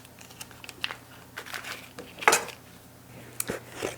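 Half a cup of butter dropped into a saucepan in a home kitchen, heard as scattered light clinks, scrapes and a sharp metallic knock of utensil on pan, close and intermittent, with no voice.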